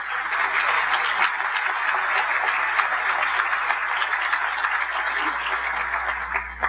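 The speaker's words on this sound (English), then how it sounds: "Let's give her another round of applause." Sustained applause from the audience at a Rotary district meeting in Jacksonville, honoring a woman named Dolores; dense steady clapping continues evenly from start to finish with no voices over it.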